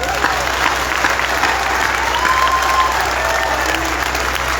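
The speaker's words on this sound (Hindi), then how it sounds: "जितने बैठे हैं एक बार ताली बजाकर बताएं" Audience at a Hindi kavi sammelan poetry gathering in Neem Ka Thana claps steadily in dense continuous applause, loud and sustained, with a faint voice underneath.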